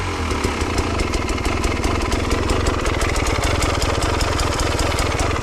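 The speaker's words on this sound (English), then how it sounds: "the idle is okay for now" KTM TPI two-stroke motorcycle engine idling up close, a steady rapid putter with an even, slightly high idle, loud and alone throughout.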